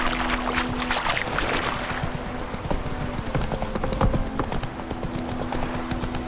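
Horse Roach's hooves clip-clop steadily on the ground in The Witcher 3, a continuous rhythmic trot at close range under ambient game sound, with no talk.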